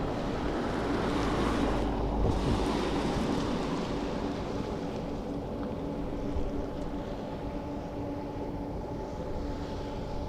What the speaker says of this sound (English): The sounds you're hearing right now, those are CF6 engines powering a 747.